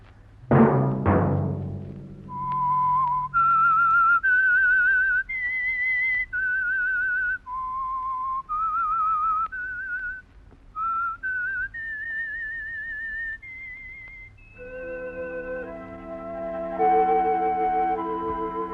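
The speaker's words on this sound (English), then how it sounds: "Let that whistle be your signal for the Signal Oil program, The Whistler" A lone whistled theme melody from a radio mystery program, a clear sustained tune of long wavering notes moving up and down, joined near the end by soft orchestral chords underneath.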